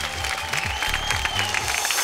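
An audience claps steadily in a warm welcome for a jury member at a Big Memsaab event, dense applause filling the room throughout.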